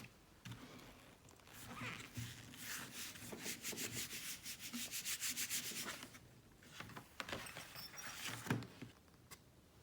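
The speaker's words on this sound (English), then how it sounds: "Now I'm going to pull a print. This time I'm going to put the print on a canvas." A hand rubs a print from a gelatin plate onto canvas, with close, dry, scratchy strokes repeating in quick rhythmic bursts and short pauses between passes.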